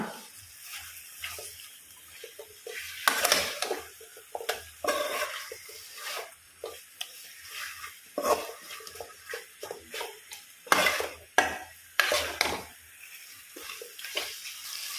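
A spoon stirs and scrapes food around a pan over a medium flame, with uneven bursts of scraping and clatter over a soft background sizzle and short quiet gaps.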